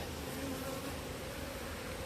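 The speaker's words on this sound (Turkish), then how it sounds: "Bolca erkek arı var." Dense, steady buzzing of many honeybees around a three-story hive, many of them drones, close and continuous, a low droning hum with no pauses.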